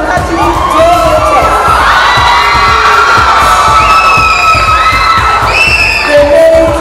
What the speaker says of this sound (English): A lot of applause for them.